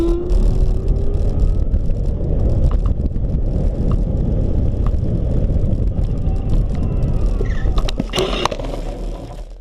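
A Bison eSkootr electric racing scooter runs flat out in race mode, a loud, steady roar of rushing wind and rolling noise that continues unbroken, with a brief rattling clatter near the end.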